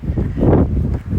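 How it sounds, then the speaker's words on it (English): Gusting early-morning wind on a High Peaks mountain hike buffets the microphone in low, rumbling bursts, loud and close, with no voices. "Slightly windy this morning."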